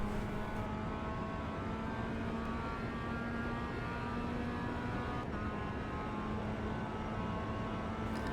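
Engine of a Mazda MX-5 race car in the iRacing game at Okayama, a steady buzzing drone held at even throttle through a corner, quiet and unbroken with no talk.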